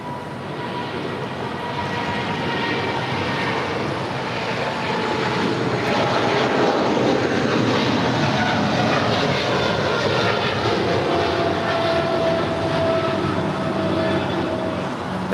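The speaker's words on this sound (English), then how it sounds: "That is United 1224 departing to Honolulu. It's a 5-year-old 777-300ER." A five-year-old United Boeing 777-300ER departs LAX for Honolulu, its jet engines a broad, sustained roar that swells slightly partway through and carries on steadily, heard at a moderate distance.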